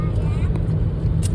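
A big white truck rumbling past nearby, a steady low engine drone filling the moment while a voice speaks over it.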